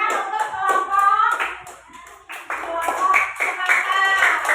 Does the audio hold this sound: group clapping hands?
yes